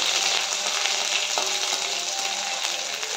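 Black cumin seeds, half a tablespoon, frying in hot oil give a steady, loud broadband sizzle with faint crackles throughout, close and without talk.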